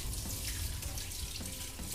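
Whey pours from cheese curds into a colander as a steady, close rush of splashing liquid that runs without pause and carries no voices.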